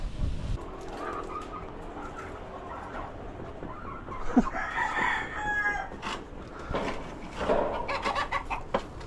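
Chickens cluck and a rooster crows nearby amid scattered rustling and background noise, with several overlapping bird calls across the stretch.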